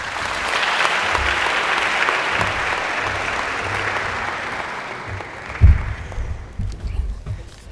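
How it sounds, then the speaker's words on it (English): An audience at a university media society launch gives a sustained round of applause, dense and steady for several seconds before thinning out into scattered claps and a few bumps near the end. "Please give them a big round of applause."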